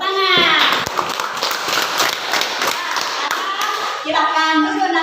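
A fourth-grade primary-school class clap their hands in a classroom, a lively run of close, sharp claps lasting a few seconds between bits of the teacher's speech.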